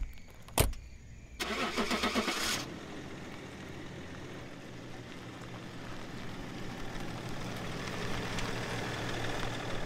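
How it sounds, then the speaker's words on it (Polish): A black Chrysler's engine cranks with a short whirring starter burst, catches, then settles into a steady low idle rumble. "Uruchamiając silnik,"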